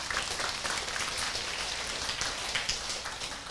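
Audience applause in a hall during a motivational success talk, a steady dense wash of many hands clapping continuously at moderate volume, with no voices over it.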